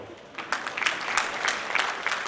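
A small audience at a district cabinet installation gives a brief, modest round of clapping, starting thin and swelling into a few scattered, uneven claps from a handful of people.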